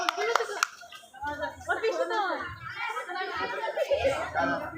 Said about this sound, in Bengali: আমরা দেখলাম আপনারা একটু হাততালি দেন পরবর্তী জীবনের জন্য শুভেচ্ছা